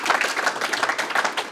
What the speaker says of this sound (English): We have a round of applause for our wonderful speakers.